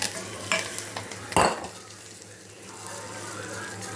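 A tempering of spices and oil is stirred into mango pickle with a utensil, soft scraping and mixing against the vessel, one louder clatter near the start, then quieter faint sizzle fading out.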